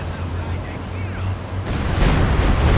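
A Stuka dive-bomber barrage strikes in Company of Heroes 2 with a sudden heavy blast partway through, followed by rumbling, crackling explosions. Someone talks over the battle noise.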